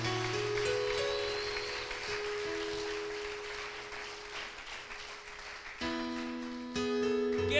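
A church congregation applauds during a sermon, with a steady wash of many hands clapping under sustained keyboard tones, growing louder toward the end.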